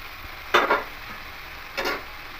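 Banana flower curry with fried potatoes is stirred in a pan, two short scraping stir strokes over a quiet background sizzle, with no talking.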